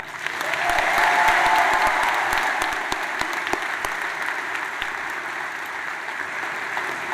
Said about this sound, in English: could we get a quick round of applause for the class of 2025?